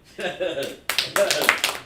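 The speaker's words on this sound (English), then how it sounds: "Clap it up." A short burst of hands clapping along at a South Carolina street gathering, a few quick claps following a voice and mixed in with it.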